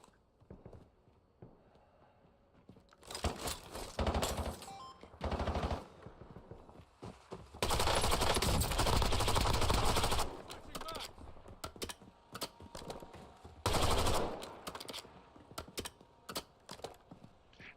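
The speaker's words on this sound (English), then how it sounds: "This gun is so loud." Bursts of automatic gunfire from a loud gun in the video game Warzone, several rapid volleys of varying length with quieter clicking and keyboard tapping between them, and faint talk in the background.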